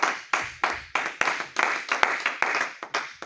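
A church congregation claps in rhythmic unison to acclaim the word of God, about eleven sharp, evenly spaced claps in just over three seconds, loud and close with no talking over them.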